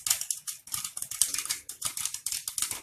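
Rapid, irregular popping and rattling of popcorn inside a closed metal pressure cooker, a dense patter of small hard hits continuing steadily throughout.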